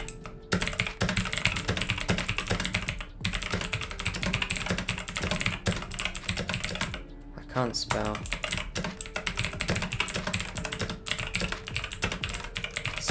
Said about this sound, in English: gonna test my typing speed right now.